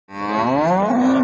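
A cow for sale gives a single long, loud moo, close by and rising slightly in pitch before holding steady, heard alone.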